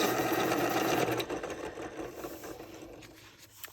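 A small electric sharpener grinding a colored pencil: a close, steady buzzing whir that eases and softens after about a second and then fades out.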